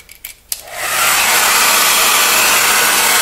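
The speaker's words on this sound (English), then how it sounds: "I'm going to take my big old hair dryer" A few soft clicks and taps, then a hair dryer switches on and blows with a loud, steady, airy roar close by.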